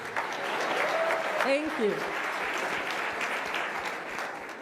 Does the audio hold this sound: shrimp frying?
no